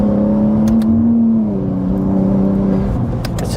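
A BMW G87 M2 Clubsport on semi-slick AD09 tyres with a mid-pipe exhaust drives a bumpy road, its engine holding a steady, loud drone that dips in pitch midway and then climbs again.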